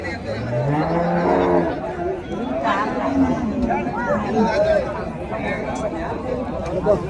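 A large four-toothed Kangayam breeding bull lows with a deep, drawn-out moo at a busy Friday cattle market in Uthangarai, followed by crowd chatter and people talking nearby.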